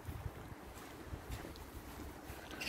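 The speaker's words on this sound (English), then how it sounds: "A little bit windy this morning." Wind blows outdoors on a grey November morning, a low, steady rumbling buffet against the microphone with faint gusty hiss and no speech.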